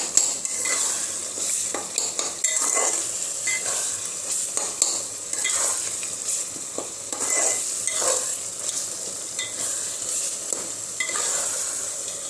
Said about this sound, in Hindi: मटन कीमा बनाने में हमें अच्छे से सबसे पहले तो मसाला हमें अच्छे से भूनना है